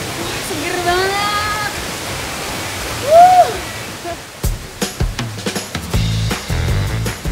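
A waterfall pours into a deep turquoise pool as a continuous broadband rush, with a few bird calls early on and sharper clicks and knocks near the end.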